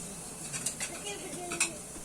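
Hiroshima-style okonomiyaki cooking on a restaurant griddle: faint metallic spatula clinks and light scraping over a steady hiss, several quick taps spread across the moment.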